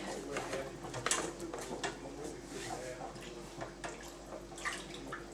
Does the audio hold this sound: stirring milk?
yes